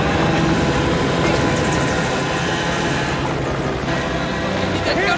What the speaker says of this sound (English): No, in an helicopter.